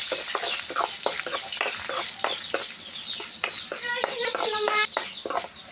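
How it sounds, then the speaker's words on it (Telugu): Curry leaves dropped into hot oil for a tempering while making raw mango and coconut chutney, giving a steady loud sizzle and crackle with stirring clatter, and a few faint voices in the background. "తాలింపులు వేస్తున్నానండి"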